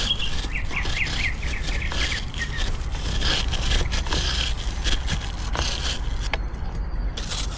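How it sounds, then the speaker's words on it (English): Loud songbird chirping in a series of rapid repeated notes near the start, continuing in scattered bursts over steady outdoor background noise. "Really, Bird? Dang, man, that was a loud effort."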